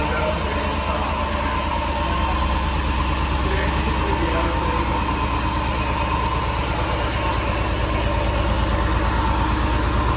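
The Guanci SSJ prototype car engine idles rough and loud, apparently not on all cylinders, a steady low rumbling drone with an uneven beat that holds for the whole stretch.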